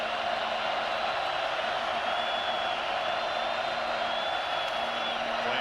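A football stadium crowd at Oregon State versus Oregon in the 2009 Civil War game makes a steady, dense roar of noise that holds at an even level throughout.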